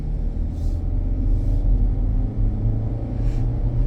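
A 2013 Ford Edge with the smaller 2.0 engine driving, heard from inside as a steady low rumble of engine and road noise with faint hissy swells.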